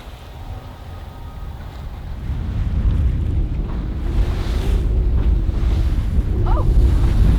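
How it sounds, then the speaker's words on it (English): Heavy sea swell rolls in off cliffs and rebounds into a choppy cross sea around a sailing boat, a loud, continuous wash of waves with strong wind buffeting the microphone and growing louder over time. "Swell comes in, hits the cliff and comes out this way."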